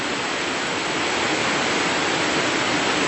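A cold creek on a hiking trail near Cascadas del Obraje in Ocuilan de Arteaga, Mexico, rushes in a loud, continuous, broadband hiss of flowing water heard close up with no talking.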